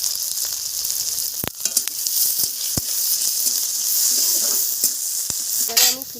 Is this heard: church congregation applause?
no